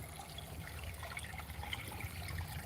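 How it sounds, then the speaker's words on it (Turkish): Pure spring water running out from beneath rocks, a steady close trickle and gurgle with no break, alone at fairly low level. "Kayanın taşları altından çıkan saf temiz su."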